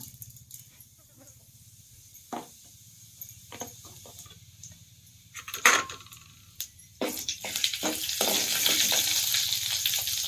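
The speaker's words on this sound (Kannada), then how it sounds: "ಇವಾಗ ನೋಡ್ರಿ ನಾನು ಬೆಳ್ಳುಳ್ಳಿ ಹಾಕ್ತೀನಿ ರೀ ಜೀರಿಗೆ ತಗೋತೀನಿ" Garlic and cumin seeds hitting hot oil in a pan for a spinach gravy: quiet scattered clinks and scrapes at first, then a sudden rising sizzle that swells into a loud, continuous frying hiss.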